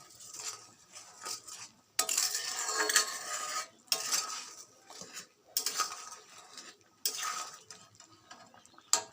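Fish pieces going into a bubbling curry on the stove, heard as four or five loud bursts of scraping and clattering from a spoon and pan, separated by quieter gaps, with no talking.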